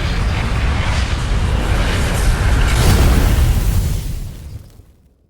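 The sun exploding in the Outer Wilds video game: a dense, roaring blast that holds steady for about four seconds, then fades quickly into silence.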